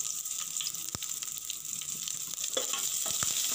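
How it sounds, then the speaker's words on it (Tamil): A chopped onion sautés in a pan of oil with a broad, steady sizzle, while occasional light clicks and taps of a utensil come through; no one talks. "வெங்காயம் கொஞ்சம் வதங்கட்டும்."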